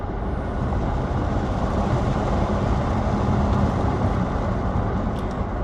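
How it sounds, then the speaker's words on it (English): A 2023 Tesla Model S Long Range accelerates with no engine note, only a steady, loud broadband rush of wind and road noise in the cabin, unchanging throughout. "I'm gonna let you hear this acceleration test just so you can hear."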